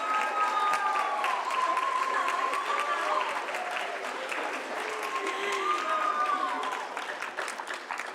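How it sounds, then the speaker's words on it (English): An audience at a high school senior awards ceremony gives school staff a loud, steady round of applause with scattered cheers, while a voice speaks over the clapping. "give them a huge round of applause"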